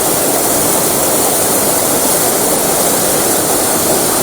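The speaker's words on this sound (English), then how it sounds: "And this is Tecket Waterfall." Tecket Waterfall at Carkey Linns in Northumberland roars as a steady, loud broadband rush of falling water, constant throughout with no voices.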